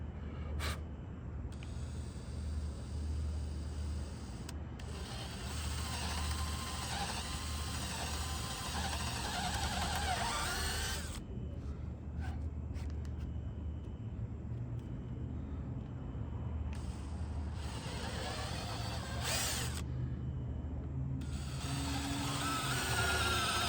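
A power drill bores the last set of holes for a solar roof rack being fitted to a camper van, with whirring, ratcheting runs that start and stop over a steady low mechanical rumble, fairly close and with no talking.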